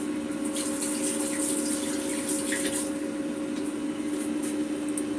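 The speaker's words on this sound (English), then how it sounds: "let me rinse my hands." Hands are rinsed under a running kitchen water tap. The water makes a steady, soft splashing hiss over a constant low hum, with no talk.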